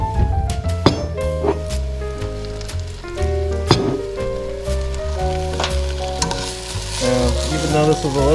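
Salmon fries over low heat in an oiled pan with a little water added, giving a steady close crackling sizzle broken by sharp spatters and the clatter of stirring and tossing.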